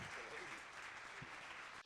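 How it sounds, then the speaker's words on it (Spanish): Faint, steady applause from a church congregation for invited guests at a discipleship celebration, a dense wash of clapping that continues through the clip before a sharp sound at the very end. "Un aplauso para nuestros invitados"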